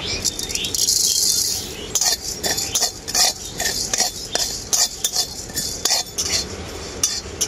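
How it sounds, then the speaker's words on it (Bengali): Cumin and coriander seeds dry roast in a kadai, stirred with a metal utensil that gives repeated rattling scrapes and clinks over a faint dry crackle, close and fairly loud. "এরপর আমি শুকনো কড়াই জিরে আর ধনে একসাথে ভেজে নেব।"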